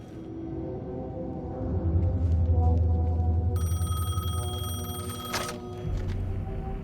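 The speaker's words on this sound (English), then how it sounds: "The payphone was ringing." A payphone in the Alan Wake 2 video game rings over a low, steady ambient rumble, its bright, insistent electronic ring entering midway and holding for a few seconds before a short burst of tone.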